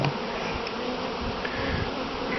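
Honey bees at an opened hive buzz in a dense, continuous swarm drone, close and steady throughout, with individual bees passing near.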